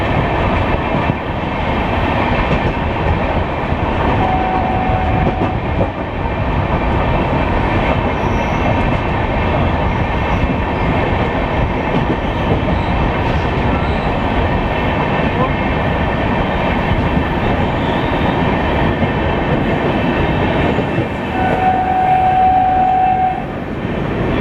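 A passenger train near Pune rumbles steadily along the rails, up close and loud and continuous, with a brief horn note near the start and another near the end.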